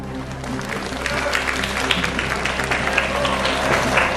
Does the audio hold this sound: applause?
yes